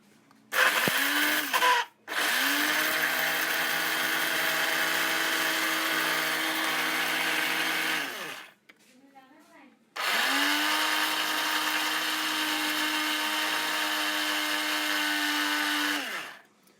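A kitchen grinder machine whirs loudly while grinding dried spices for chaat masala, running in two long bursts with a brief stop and restart between them, its motor pitch steady and high.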